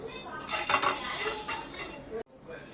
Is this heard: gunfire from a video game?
no